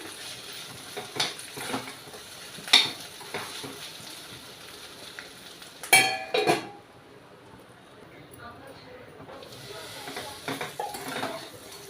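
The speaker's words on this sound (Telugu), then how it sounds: "ఇలాగా ఒక 1 గంట సేపు అలా మధ్య మధ్యలో కలుపుకుంటూ వేయించుకోవాలి." Bitter gourd curry frying in a pan and stirred now and then: a low, faint sizzle broken by scattered clinks and scrapes of a metal spoon against the pan, with a person talking over it.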